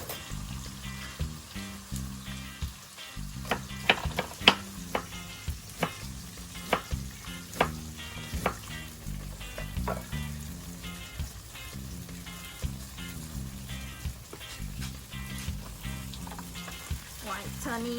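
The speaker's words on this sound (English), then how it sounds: "While waiting for frying the tofu" Tofu sizzles and crackles steadily as it fries in a hot pan, with irregular sharp pops and spatters throughout.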